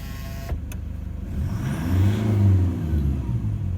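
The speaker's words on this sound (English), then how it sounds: "let's put the window down to be fair like the other one" A power window lowers on a 2012 Toyota Hilux, a steady motor whir that swells through the middle and fades, heard close with a brief click near the start and no talk.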